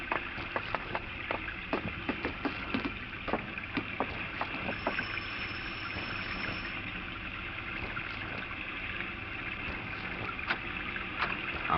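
Steady rain on a small boat or dock, a continuous wet hiss with scattered drips and taps throughout, in a 1951 radio drama.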